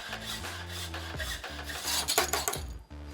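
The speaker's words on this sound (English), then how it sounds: "To cut these, I'm using a fine tooth hacksaw blade as well as a clamp to hold it in place" A fine-tooth hacksaw cuts a metal burglar guard bar held in a clamp, with close, rhythmic rasping back-and-forth strokes, about six or seven in a steady tempo.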